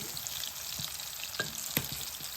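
Oil crackling and sizzling steadily close up as salmon milt deep-fries, with a few sharper pops breaking through the continuous hiss.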